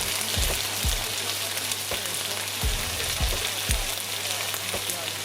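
Lamb chops sizzle and crackle steadily in a hot pan, with occasional low pops and spits scattered across the sizzle.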